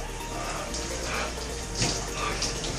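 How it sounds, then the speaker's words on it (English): Cold shower water running steadily in a continuous hissing spray, close and fairly loud, with small shifts in the flow and no speech over it. "I'm going to take a whole shower like this today."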